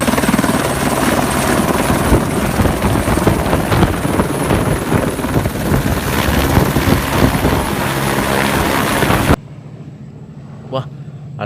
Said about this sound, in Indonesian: Ada helikopter polisi.